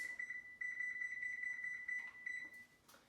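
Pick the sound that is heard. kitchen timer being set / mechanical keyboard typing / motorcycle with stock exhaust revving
kitchen timer being set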